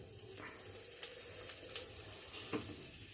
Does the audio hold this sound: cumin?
yes